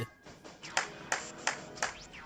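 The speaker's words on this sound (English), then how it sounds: "You clapped your hands, right?" Five crisp video-game hand claps ring out at a steady, slightly slow rhythm, each with a bright synthetic ping, over a faint electronic background.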